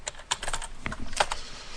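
A computer keyboard clatters as a command is typed, a quick run of light key clicks at uneven pace, close and fairly quiet with no voice.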